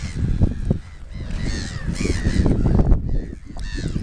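A large flock of pelicans at a lake in Kenya, with harsh, overlapping croaks and grunts close by over a continuous rough din, with no talk.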